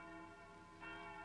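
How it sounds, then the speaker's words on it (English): The bell of the Palace of Justice in Venice tolls a sustained, faint, humming ring that swells slightly near the end of a brief moment. "The bell of the Palace of Justice? Yes. Announcing another death sentence."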